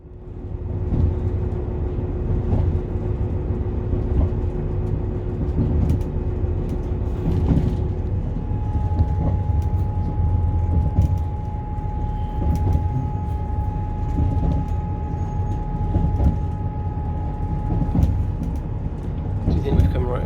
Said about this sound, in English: we caught the train